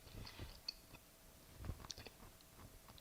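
Someone chews a buttered sourdough English muffin spread with jam, producing soft, close, intermittent moist bites and crunches with small clicks across a few seconds, no talking.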